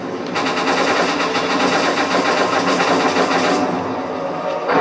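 Gunfire in Resident Evil 4's final chapter, a dense, steady rattling stream of rapid shots at a loud level, holding for several seconds and then cutting off.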